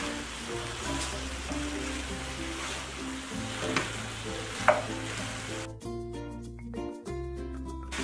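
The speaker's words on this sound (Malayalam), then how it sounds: "ഇനി ഞാൻ ഈ ഫ്രൈ ചെയ്ത് വെച്ചിരിക്കുന്ന ചിക്കൻ പീസസിലേക്ക് ഇട്ടിട്ട് ഇളക്കി കൊടുക്കുകയാണ്" Fried chicken pieces are stirred into a sweet, spicy dragon chicken sauce in a pan, with a continuous soft sizzle and repeated scraping and clinking of the spoon, the sizzle growing brighter and crackly toward the end.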